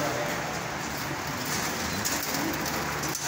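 A bird calls with soft cooing, pigeon- or dove-like, in an outdoor setting in San Miguel, Bulacan, heard as a steady low murmur under constant broadband background noise.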